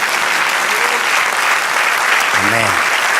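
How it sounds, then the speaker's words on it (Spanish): A church congregation applauds during a worship service, dense sustained clapping filling the room, with a brief voice rising over it near the end. "denle un aplauso al Señor"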